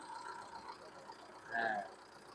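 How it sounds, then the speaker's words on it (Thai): A Mitsubishi Pajero 2.5 GT engine idles steadily in a low, even hum, with a short swell partway through. "เครื่องยนต์นิ่งๆนะไม่สั่นไม่สะดุด ไม่มีสวิง"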